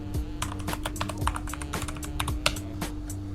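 Rapid, close typing on a computer keyboard while entering a G++ version command in CMD, with a dense run of light key clicks and a steady background hum.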